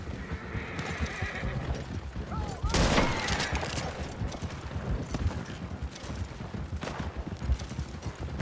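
Gunfire aimed at a horseman in the video game Red Dead Online, shots ringing out amid horse whinnies and hoofbeats, with voices talking under the action.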